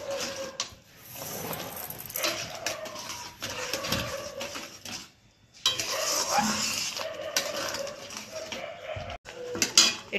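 Jelly jam with sugar being stirred in a pan over low flame, a spoon scraping and clinking against the metal in steady, close strokes with brief pauses.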